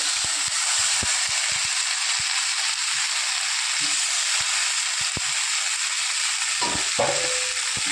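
Spice paste for tilapia fish curry sizzles in oil in a pan, a steady bright hiss with scattered ticks and pops, then a scrape of stirring near the end; no voices.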